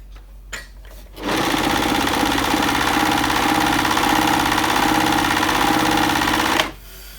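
A Bernette b44 overlock serger sews a sparse overlock stitch on fabric, starting after a couple of faint clicks and running in a loud, steady rapid whir for about five seconds before stopping abruptly.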